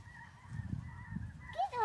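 Geese honk while flying north over an outdoor homestead, several faint nasal calls rising in pitch near the end of a quiet, breezy stretch with low rumble underneath.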